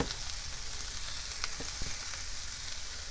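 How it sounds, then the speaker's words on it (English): Louisiana Creole jambalaya sizzling in a pot over a medium flame, a steady frying crackle up close with a few soft scrapes and knocks from the stirring spoon. "Just trying to make sure I get all this stirred up really good."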